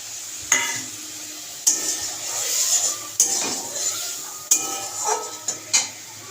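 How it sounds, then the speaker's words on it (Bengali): Egg curry being stirred in a pan, repeated sharp scrapes and clinks of a spoon against the metal every second or so over a low background sizzle. "চলো এখন বেশ কিছুক্ষণ নাড়াচাড়া করি"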